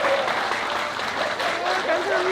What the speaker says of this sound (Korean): 보살님한테 우리 박수 한번 크게